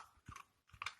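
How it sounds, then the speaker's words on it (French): A small dog crunches Carnilove dog treats, breaking each one into several pieces with two short, close bursts of crisp chewing and biting. "il les croque en plusieurs morceaux"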